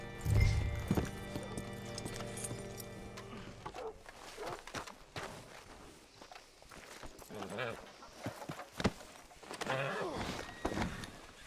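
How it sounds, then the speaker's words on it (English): Horse hooves clip-clop in Red Dead Redemption 2, an irregular series of nearby hoof falls mixed with game ambience. Characters speak over parts of it. "Hitch your horse up here."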